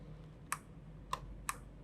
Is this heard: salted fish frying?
no